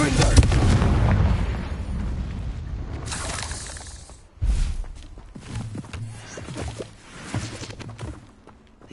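A Confringo fire spell blasts in the Hogwarts Legacy video game, a loud booming explosion with shattering debris that fades, followed by a second thud, footsteps and scattered clatter in a maze-like cave.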